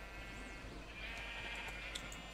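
Sheep bleat in the Minecraft video game, a few short wavering calls over a steady background hum with a faint click near the end.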